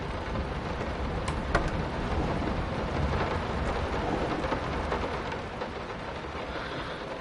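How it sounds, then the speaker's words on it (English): Steady, dense rain hiss from the video game Layers of Fear fills the clip, loud and continuous, with a few faint clicks and a low rumble underneath. "And the loud rain noise is pretty spooky."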